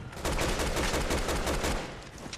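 Rapid gunfire in the video game Resident Evil 6, a dense burst of repeated shots with a rattling, automatic-weapon rhythm lasting a couple of seconds.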